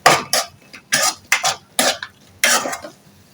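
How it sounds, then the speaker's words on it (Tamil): Pepper rice with garlic and pepper powder being stirred in a cooking pan, producing a run of separate scraping, clinking strokes from a spoon against the metal, close and fairly loud with short pauses between them. "ஃபைனலா சேர்த்துட்டு ஒரு பெரட்டி எடுத்துக்கோங்க"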